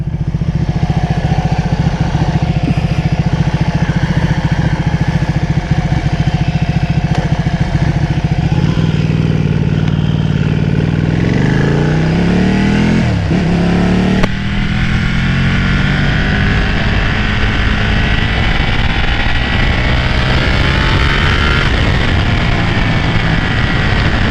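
A 2012 Ducati Panigale 1199S motorcycle engine revs loud and close, its pitch sweeping up and down through repeated throttle blips over a rumbling idle.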